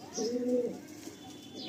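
Pigeon cooing during a pigeon sale: a single low, throaty coo rolls for about half a second near the start, fairly close, followed by quieter background rustle and faint bird sounds.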